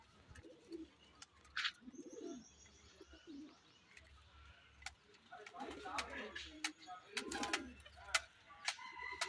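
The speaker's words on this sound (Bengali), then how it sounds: "একদম ছোট্ট পায়রা।" Pigeons coo in low, soft repeated phrases at close range, with chirps and faint rustling, as a person talks intermittently over the birds.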